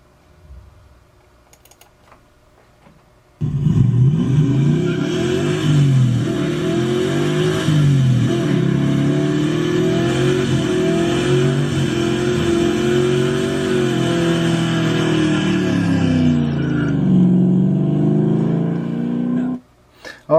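An old muscle car engine revs hard through three gears while standing still, a loud continuous roar rising and falling in pitch for about sixteen seconds before cutting off abruptly.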